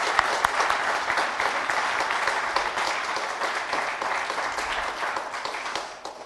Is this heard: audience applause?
yes